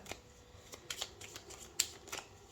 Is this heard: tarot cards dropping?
yes